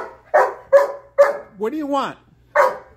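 Indoors, a dog gives four sharp barks in a steady rhythm, loud and close, while a person asks the dog a question in the middle of the barking.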